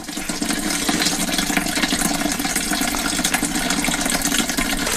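Water running steadily from a hose or tap while cleaning a Husqvarna 125, a loud, constant close rush with no pauses or voices.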